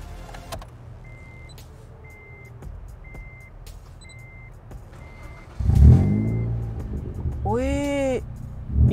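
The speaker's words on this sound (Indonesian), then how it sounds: "Gue mau denger suara mesinnya." A modified Honda Brio Satya built in street-racing style, fitted with an aftermarket exhaust, is started after a series of evenly spaced warning chimes, then briefly revs up with a rising roar while people talk nearby.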